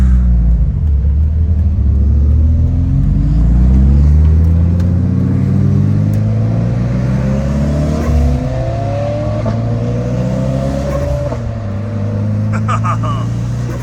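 A Mitsubishi Evo fitted with Cusco front and rear strut braces revs loudly and close by, its engine rising and falling in pitch across several throttle sweeps while people talk over the gnarly rumble.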